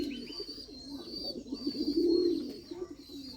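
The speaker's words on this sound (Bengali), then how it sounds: "সুন্দরভাবে ডাকে কবুতর" A pair of Bombay pigeons coo in soft, low, rolling phrases close by, swelling to a louder burst midway before easing off, with no talk.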